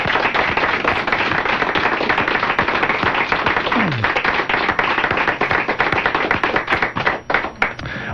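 Dense, sustained applause from a crowd on the final day of the CJVL station in Sainte-Marie, Beauce, a loud wash of many hands clapping that thins out and turns more scattered toward the end.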